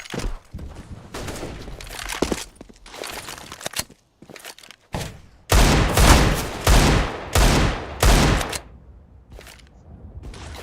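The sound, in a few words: flashbang and smoke grenades thrown in CS:GO video game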